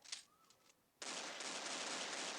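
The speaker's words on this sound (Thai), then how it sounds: "ยิงเลยปืนพกก่อน" Gunfire in the video game Crisis Action: a couple of faint early pops, then from about one second a sustained, loud, dense burst of rapid shots filling the rest of the moment without pause.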